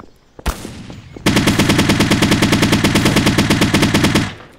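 In the game Garry's Mod, a sharp single gunshot is followed by a long, loud burst of rapid automatic fire lasting about three seconds, with no talking.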